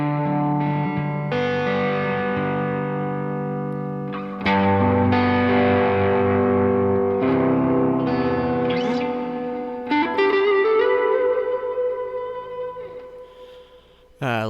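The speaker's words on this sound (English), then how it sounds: "the reverb and delay and basic modulation on the Zoom are really good." Electric guitar notes played through a Zoom multi-effects pedal with lush reverb and echoing delay, chords ringing out and trailing off between phrases.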